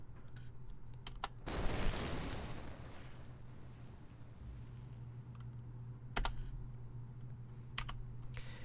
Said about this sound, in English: And here's that combustion sound.